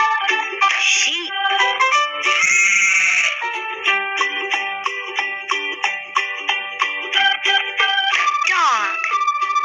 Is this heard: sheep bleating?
yes